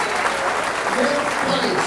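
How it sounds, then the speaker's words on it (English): Audience at a 9-ball pool match at the 2008 US Open 9-Ball Championship gives a short, steady round of applause, with a voice talking over it. "Rodney Morris, a nice round of applause."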